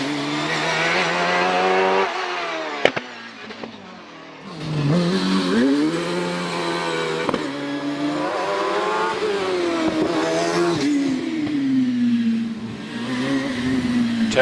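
A Reynard hillclimb car with a 2-litre V8 launches off the line at Prescott, its engine screaming through rapid upshifts with brief tyre squeal, loud and close, then fading slightly as it pulls away.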